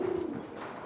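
Carrier pigeons cooing, a single low, soft, drawn-out coo close by that fades quickly over a quiet background.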